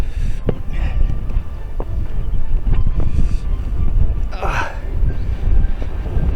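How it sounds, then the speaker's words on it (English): Heavy wind on the Carn Brea hilltop in Cornwall buffets the microphone with a low, continuous roar and gusty rumbles, loud and close, with faint voices briefly audible under it. "It is very windy."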